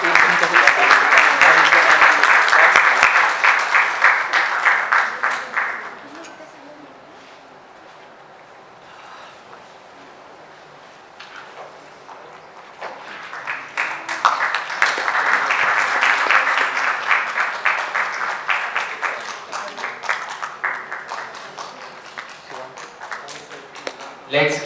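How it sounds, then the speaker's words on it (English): Audience applause at a Founder's Day award ceremony comes in two waves, a loud burst of clapping that dies into a quiet lull, then a second sustained round rising again and gradually thinning out. "Can we have a huge round of applause?"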